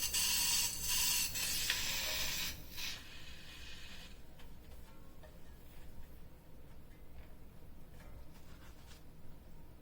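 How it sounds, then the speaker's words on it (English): Air hisses from a Continental GP5000 tubeless bicycle tire that is not sealing, a loud close spraying burst for a few seconds fading into a fainter, continuous leak hiss with light mechanical fiddling. "You can probably hear that. Not sealing quite right"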